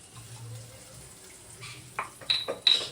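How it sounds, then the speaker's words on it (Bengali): Garlic-pounding mortar rinse water poured into a cooking pot, a soft trickle building to a few splashy pours and clinks toward the end, close and fairly quiet. "এই রসুন ধোয়া জলটা দিয়ে দেব।"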